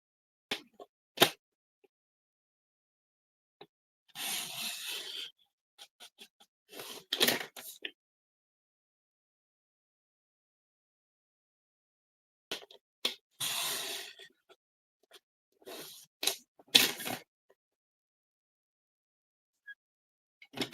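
Scissors cutting along the folds of a paper card for a lily-of-the-valley greeting card, close, dry snips and crisp crunches coming in short bursts separated by long silences.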